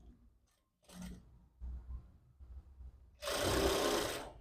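A sewing machine stitches a princess-model jacket, opening with faint taps and short handling sounds and then breaking into a loud, continuous close-up run of stitching near the end.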